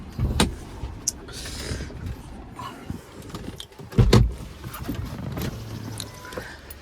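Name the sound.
car engine idling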